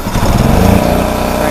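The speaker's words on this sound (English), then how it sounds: "the generator, as you know, we'll crank it up" A toolbox-style portable generator engine cranks up and settles into a steady, buzzy running drone, loud and close, with a rough start in the first moment.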